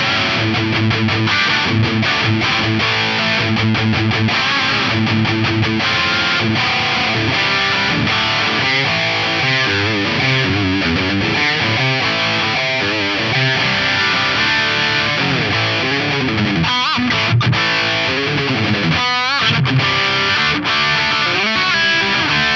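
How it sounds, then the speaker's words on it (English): Electric guitar with Damasio humbuckers plays through an MP1 tube preamp into a Synergy power amp, giving a thick, heavily distorted tone. It plays continuously and loud for over twenty seconds as busy riffing with dense, saturated chords, with no voices. "with my greeny guitar with some Damasio humbuckers in it, sounds like this"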